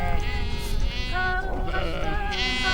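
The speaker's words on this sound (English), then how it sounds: "tending to their sheep and horses" Sheep at a Kazakh nomad camp by grassland water in Xinjiang bleat loudly and close, several overlapping wavering cries running continuously for a few seconds with no talk.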